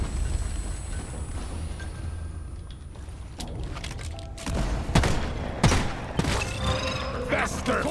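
Grenade blast in Deep Rock Galactic amid ongoing fighting, with a deep booming explosion and heavy thuds rising over a steady background rumble, scattered gunfire and someone talking.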